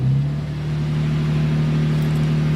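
A car engine idles and revs slightly during an automatic coolant service function on a rebuilt car, a steady close mid-pitched hum rising briefly at the start and then holding even throughout, with no voices.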